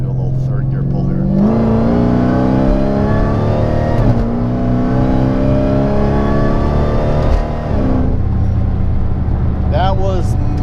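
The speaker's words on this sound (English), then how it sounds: "So do a little third gear pull here." A Challenger SRT8 pulls hard in third gear at about half throttle, its engine loud, close and steadily rising in pitch through a sustained roar with a brief shift-like dip near the end.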